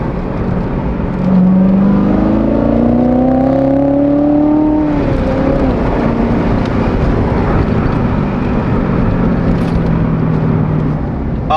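A supercharged Chevrolet Corvette engine with a stock exhaust and intake hums loudly and steadily, its pitch rising through one long rev before easing into a continuous drone, heard up close from inside the car.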